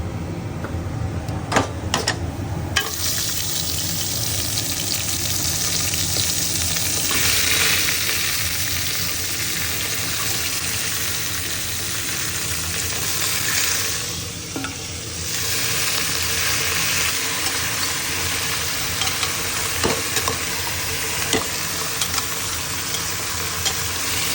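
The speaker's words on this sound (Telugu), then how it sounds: "ఇప్పుడు మనం రెడీ చేసి పెట్టుకున్న ఈ బోన్స్ వేస్తాం" Prepared bones are tipped into hot spices (dry red chillies, bay leaf and kasuri methi) for an Andhra-style bone broth, producing a loud, steady fry with stirring scrapes and no talk.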